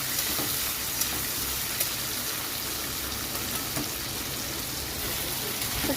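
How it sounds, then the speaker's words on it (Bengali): Shrimp fry in mustard oil in a karahi, giving a steady, loud, close sizzle with faint crackles throughout and no talk. "কড়াইতে সর্ষের তেল দিয়েছি, চিংড়ি মাছ ছেড়ে দিচ্ছি ভাজার জন্য।"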